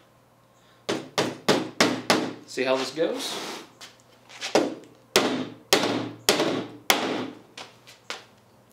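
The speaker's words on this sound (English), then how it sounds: "First, we're gonna use the regular hammer." A regular hammer drives 1.5-inch drywall nails, striking a string of sharp, close, evenly spaced blows in quick bursts, with a short spoken remark partway through.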